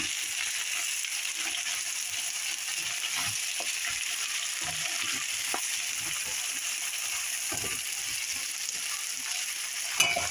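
Broccoli and pork being stir-fried in a pan with celery, a steady soft sizzle with scattered scraping stirs and small splatters throughout, fairly quiet and close, with no talk over it.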